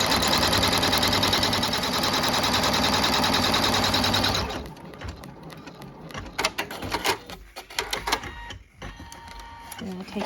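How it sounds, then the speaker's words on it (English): A sewing machine stitches thick, furry fast-dry towel fabric into a bath mitt, running loud and steady for about four seconds before it stops. Quieter handling noises and some speech follow. "we're gonna stitch the next step."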